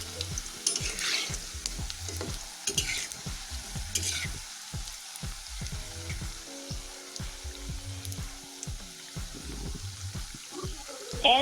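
Egg pitha fries in a pan with a soft, continuous sizzle. A utensil scrapes and stirs the pan in irregular bursts, and there are occasional light clinks.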